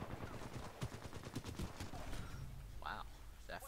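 Alternator submachine gun fire in the shooter Titanfall 2 rattles in a rapid burst of sharp, close shots, followed by quieter game effects and a brief voice near the end.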